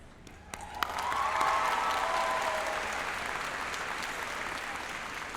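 A large crowd breaks into sustained applause for the graduating class at a 2017 community college commencement ceremony. The dense clapping swells quickly, holds and slowly tapers off.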